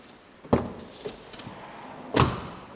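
Two solid slams of a Dacia Logan 1.5 car door shutting, sharp close thuds a moment apart with fainter knocks and handling sounds between them.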